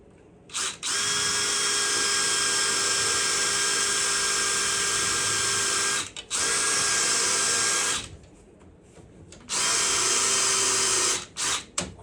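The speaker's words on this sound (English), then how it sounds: "So just drill a hole." A power drill bores a hole through the floor of a Jeep Wrangler in loud, high-pitched whining bursts: one long run, a second shorter one, a pause, then another burst and a couple of quick blips.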